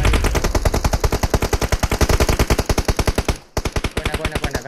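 A long, steady burst of rapid automatic rifle fire in a mobile battle royale shooter, close and loud with evenly spaced shots, briefly breaking off before resuming.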